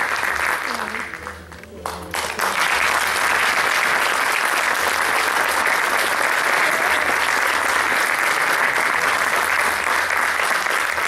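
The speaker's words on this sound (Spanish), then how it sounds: "Brindémosles un fuerte aplauso." Applause from the audience at a school graduation ceremony. After a brief quieter moment it swells into loud, sustained clapping that fills the hall without letup.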